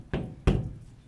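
Two firm knocks on a wooden chamber door, spaced about a third of a second apart, dull and fairly close, with nothing else around them.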